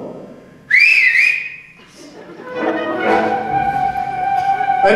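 A sharp, high whistle rises and wavers for about a second, followed by a rich, sustained tonal sound from a chamber wind ensemble that holds steady to the end.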